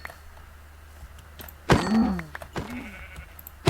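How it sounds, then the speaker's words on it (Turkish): Minecraft sheep bleats twice in a video game, a clear wavering cry followed by a shorter second bleat after a pause, heard alone without talk. "Dikkat et. oh koyun."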